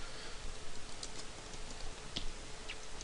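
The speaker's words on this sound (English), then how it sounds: "a little screen will pop up where you can type in your tweet" Light typing on a computer keyboard, a few soft scattered key taps over a steady room hiss, with no one speaking.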